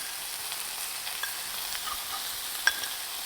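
Coconut sugar is stirred into onions sizzling in a pan, a bright, even hiss with soft scraping of the spoon and one small clink near the end, no voices.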